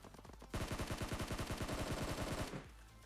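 A rapid automatic burst of gunfire in the mobile shooter game PUBG Mobile, lasting about two seconds, dense and loud, with evenly spaced shots and a quieter game background before and after.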